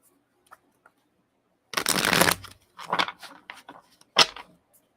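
A deck of tarot cards is shuffled up close in several quick riffling bursts, one long rustle followed by shorter flicks and a final snap, with near silence between them.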